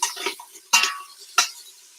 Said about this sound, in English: You just want to mix them around, make sure they don't burn